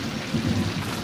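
Rain falls in Murshidabad after a spell of intense heat, a steady close wash of noise with a low rumbling undertone throughout this brief moment, with no voices.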